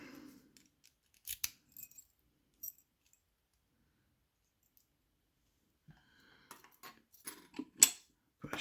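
Keys jangling near a padlock being picked, with scattered metallic clinks and rattles in short bursts separated by quiet gaps, close and fairly faint.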